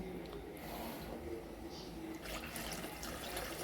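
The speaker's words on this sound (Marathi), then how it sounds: "अर्धा लिटर दूध टाकून घ्यायचं आहे" Half a litre of milk pours steadily and continuously into a pot for rice kheer, a soft low splashing with faint background noise throughout.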